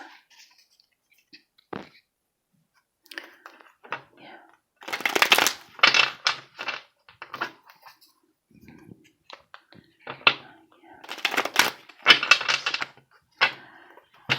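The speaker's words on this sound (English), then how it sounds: "Let me get you 2 more shuffles." Repeated riffling bursts of tarot cards being shuffled, close and crisp, in two main flurries with softer handling noises and brief pauses between.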